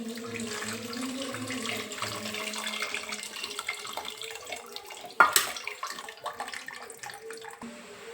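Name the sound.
tamarind water poured into mutton bone curry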